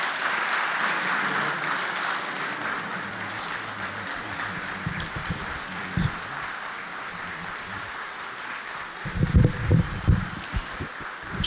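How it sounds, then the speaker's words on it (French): Deputies and guests at the Côte d'Ivoire National Assembly closing ceremony give sustained, even applause that fills the hall, steady at moderate distance, with a few low thumps and rustles near the end. "Sous les applaudissements de l'ensemble des députés et des personnalités présentes."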